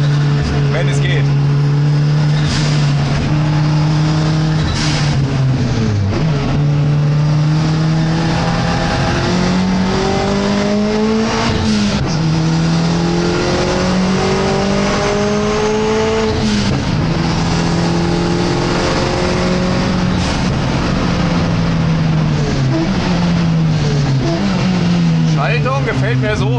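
An Abarth car drives at steady speed while its engine is warmed up, the engine note rising and falling with gear changes, loud and close from inside the car, with someone talking over it.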